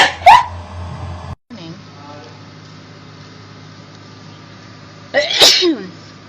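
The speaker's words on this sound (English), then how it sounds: "I'm about to sneeze because bubble dust got my nose" Two sharp sneezes triggered by bubble dust in the nose, one loud burst at the start and another about five seconds later, separated by quiet indoor room tone.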